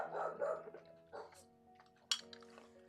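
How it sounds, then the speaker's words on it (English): Dogs barking outdoors, heard through an open front door, with several rough bursts standing out over clinks of dishes and cutlery in a room. "It sounds like every dog's barking."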